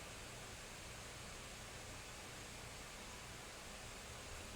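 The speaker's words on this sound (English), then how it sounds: "There's no whirring, buzzing, humming. It's just fan. White noise." Cooling fan of a 2025 HP Victus gaming laptop with RTX 5050 graphics running in full performance mode, a steady, even broadband whoosh like white noise, faint and unchanging with no talk.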